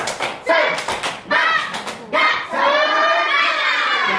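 A group of children claps in a quick rhythmic pattern, chanting along loudly, with bursts of clapping separated by short pauses.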